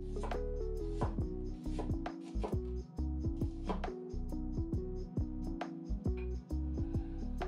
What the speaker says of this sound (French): Émincer une échalote.